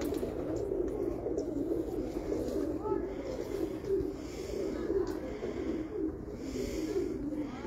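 A red-beaked female pigeon coos in a low, steady stream on a rooftop loft, the soft throaty rolls running continuously and fairly close throughout.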